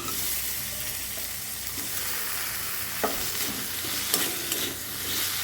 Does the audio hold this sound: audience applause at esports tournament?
no